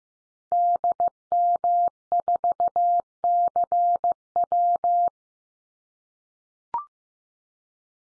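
Morse code CW tones send a call sign at 15 words per minute: a single steady pitch keyed in crisp short and long bursts, followed by a pause and one brief final blip.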